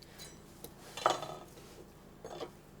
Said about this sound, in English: So I cut halfway through, cut my slices, turn around, cut wedges again.